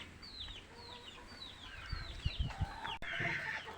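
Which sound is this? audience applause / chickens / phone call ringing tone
chickens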